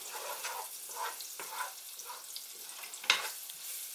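Anchovies sizzling in oil for a homemade marinara sauce while being stirred: a steady, soft frying hiss with repeated scraping strokes and one sharper clink, heard alone with no talk.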